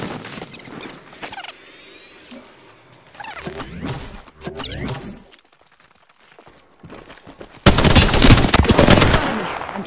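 Apex Legends gunfire, bursts of rapid automatic shots rattling in clusters with mechanical clicks between, then a loud sustained volley near the end, close and prominent with no talk.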